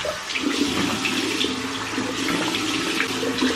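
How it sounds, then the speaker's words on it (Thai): Tap water runs steadily into a sink while a face is washed, a close, continuous gushing splash with slight shifts in flow and no talk over it. "เดี๋ยวล้างหน้าก่อน"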